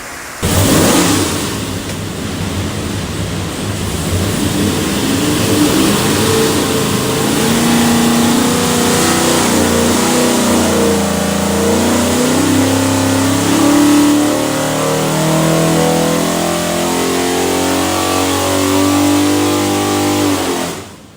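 A 489ci big-block Chevy V8 on a dyno roars under sustained load, revving steadily upward for about twenty seconds before cutting off abruptly.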